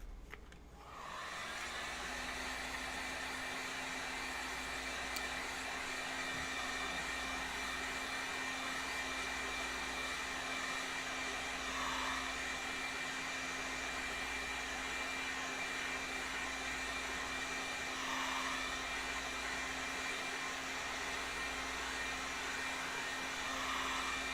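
A heat tool blows hot air onto plastic mouth guards for a chrome-visor Space Marine helmet, a steady, close, unbroken whooshing roar with a faint whine that starts abruptly and holds level.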